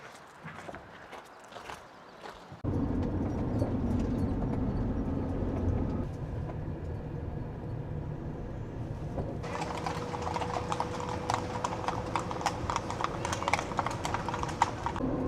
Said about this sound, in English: Yeah, that was a bunch of horses.